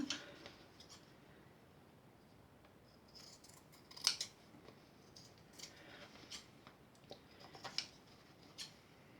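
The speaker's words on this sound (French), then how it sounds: "Je vais juste un tout petit peu découper un petit bord comme ça." Scissors trim a small edge of padding to fit a piece of cardboard, several faint, quiet snips and rustles spaced through a hushed room.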